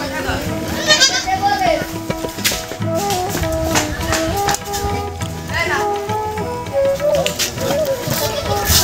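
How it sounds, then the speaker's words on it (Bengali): Goats on a farm raising Beetal, Haryana and Totapuri cross breeds bleat in short wavering calls, scattered through busy talk and background chatter. "এই যে একটা ছাগল দেখতে পাচ্ছি"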